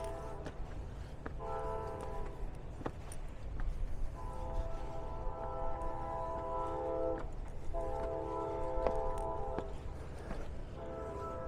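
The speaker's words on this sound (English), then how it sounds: "The sound in the background, trains." Trains pass through Miamisburg in the background, with repeated bursts of a distant, fairly faint horn sounding over a low rumble of rail traffic.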